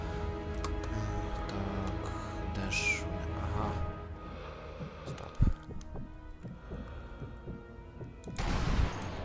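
A sharp single gunshot rings out in the Sniper Elite V2 video game amid low ambient hum and scattered faint clicks, with a softer rumbling burst near the end.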